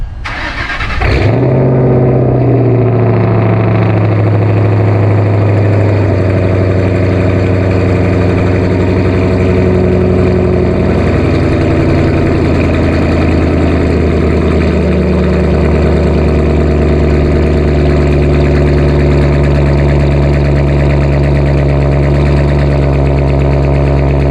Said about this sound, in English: First, we get a little cold start.